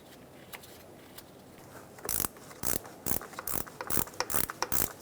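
A ratchet clicks in quick close bursts as it snugs down the vehicle speed sensor on a 2014-2018 Chevrolet Silverado 1500, starting after a quiet pause and repeating in a steady rhythm.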